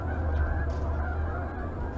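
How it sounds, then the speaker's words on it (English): Canada geese honking as a large flock flies overhead across a river, the calls blending into a steady loud outdoor wash with strong low rumble and no talk. "Big gaggle of geese flying."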